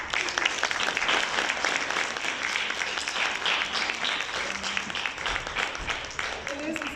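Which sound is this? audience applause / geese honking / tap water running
audience applause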